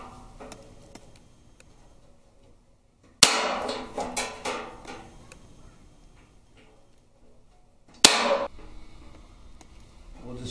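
A Roper Whitney hand punch with a 5/16 die punching holes in sheet metal on a 1967 Camaro wheel tub: two sharp, loud metallic snaps spaced seconds apart, each ringing briefly, with faint ticking and clicks between.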